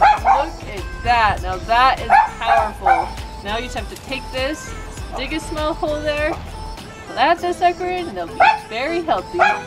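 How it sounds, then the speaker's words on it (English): A neighbor's dog barks and yips repeatedly during a garden lily transplanting, the barks coming in bursts under someone talking throughout. "sometimes when you're somewhere where you can't control your surroundings, you have to deal with a barking dog."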